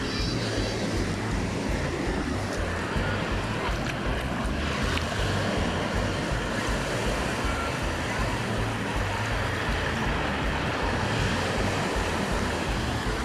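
Ocean waves wash up on a beach in Nayarit, Mexico, recorded at water level with a phone. The surf is loud and continuous, a steady rushing wash with wind buffeting the microphone throughout and no voices.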